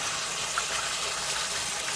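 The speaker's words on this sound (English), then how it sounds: "I'm going to wash off my hands" Tap water runs steadily for hand washing in a home kitchen, a constant close gushing hiss with no talk over it.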